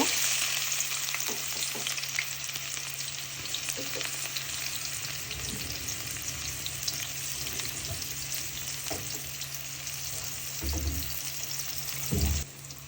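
Chopped onion fries steadily in a pan for a prawn and Malabar spinach dish, a dense continuous sizzle with occasional stirring clatters and a louder scrape near the end.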